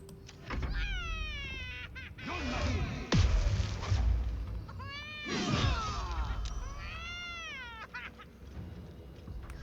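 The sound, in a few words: cat meowing from a chest in a video game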